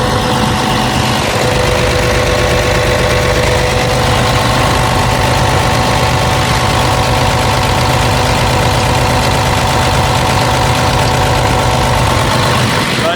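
The diesel engine of a 2017 Komatsu PC490 LC-11 excavator idles loud and close, a constant heavy mechanical drone with a steady rhythmic pulse that barely changes throughout.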